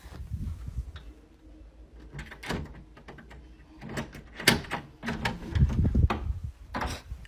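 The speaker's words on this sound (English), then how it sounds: "just found a door key in my room. I'm coming in." A door is unlocked with a key and opened, with clicks, rattles and a thudding swing in a bursty sequence over a few seconds and no talking.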